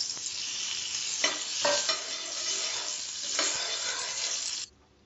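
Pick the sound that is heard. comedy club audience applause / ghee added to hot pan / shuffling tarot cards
ghee added to hot pan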